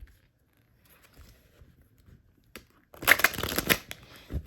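Tarot cards are shuffled by hand: faint rustles and soft handling at first, then a loud, close burst of crisp riffling card flicks in the final second and a half, with no talking.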